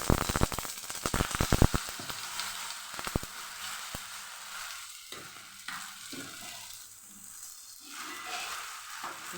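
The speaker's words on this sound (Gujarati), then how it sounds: "અહીં આપણું તેલ ગરમ થઈ ગયું છે તો રાઈ અને આપણે સફેદ તલનો વઘાર કરશું" Mustard seeds and white sesame seeds crackle and sizzle in hot oil for a tempering, with dense popping bursts early that thin into a softer steady sizzle, close up and with no talk.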